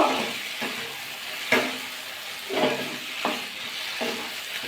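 Cauliflower is stir-fried and mixed in a pan for matar fulkopi, with rhythmic scraping strokes of a spatula every second or so over a low sizzle, close and moderately quiet.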